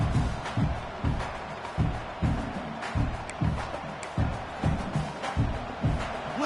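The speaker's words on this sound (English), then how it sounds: "Listen to the crowd energy here in the early going." A crowd roars and cheers in a large stadium at an Oregon versus Georgia game, with rhythmic rising swells of noise repeating steadily throughout.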